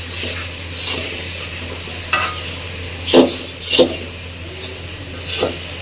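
Leafy greens are stir-fried in a pan over a constant low sizzle. Several sharp spatula scrapes and clinks against the metal come at intervals.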